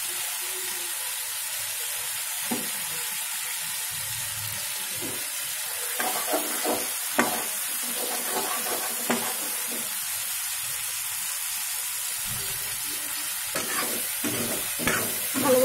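Potatoes fry with ginger paste in a pan for a vegetarian pui shaak dish, a constant sizzle broken by bursts of spatula scraping and stirring in the middle and near the end.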